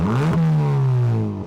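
A drift car's engine revs hard through an exhaust with its middle section removed, a loud close rising then steady droning note that tails off slightly at the end.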